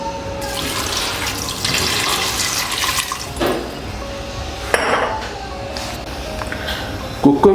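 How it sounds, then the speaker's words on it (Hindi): Water from a glass splashes and pours into a pressure cooker while chicken karahi is being made, a running, sink-like gush lasting several seconds with a few clinks of metal at the end. "और साथ डालते हैं जी 1 गिलास पानी।"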